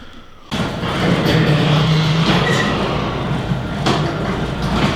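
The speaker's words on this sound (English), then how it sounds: "go pop your garage door open" Residential garage door rolling open on freshly lubricated rollers, a sudden start followed by a steady, loud rumbling glide with occasional brief clicks and squeals that continues for several seconds.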